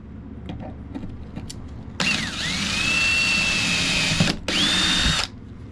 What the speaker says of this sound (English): We'll go ahead and drill that hole.